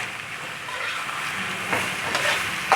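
Minced beef with a generous spoonful of ginger garlic paste is stirred in a pan over full heat. A constant sizzle runs throughout, with scraping knocks near the end.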